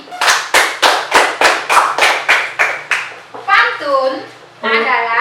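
Classroom children clap in a quick, steady rhythm, about ten sharp claps close by, then the clapping stops and children's voices chatter.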